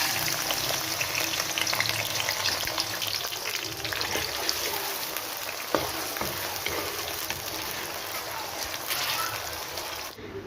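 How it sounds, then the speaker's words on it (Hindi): Onions frying in hot oil in a kadai, a steady dense sizzle that runs unbroken throughout, close and fairly loud, with faint stirring noises and no voices. "ऑयल जैसे ही गर्म हो जाएगा तो हल्का सा प्याज को फ्राई कर लेंगे।"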